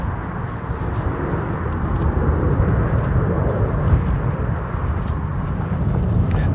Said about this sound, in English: You know, the plane's coming in.